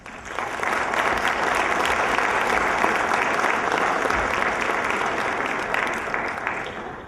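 Sustained audience applause fills a memorial celebration event, a dense, steady wash of clapping from a large crowd that holds for several seconds before easing slightly.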